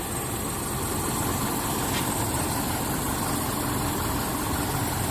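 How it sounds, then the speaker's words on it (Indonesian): A 1997 Daihatsu Feroza G2 engine idling smoothly, a steady low continuous rumble heard close up and alone, with no speech. "Suara mesin juga masih halus banget ya teman-teman ya"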